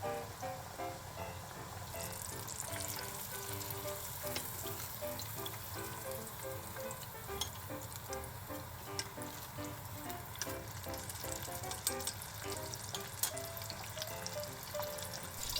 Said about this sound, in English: Place the pork in oil heated to 160 to 170 degrees Celsius.